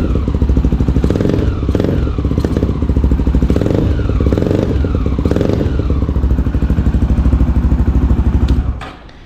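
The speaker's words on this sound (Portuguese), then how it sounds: "Quando acelera, ela tá numa engasopadinha, cara." A 2008 Honda Twister motorcycle engine, just after a carburetor adjustment, revs up in repeated throttle blips that rise and fall roughly every second, loud and close with a clattery tone, then cuts off near the end.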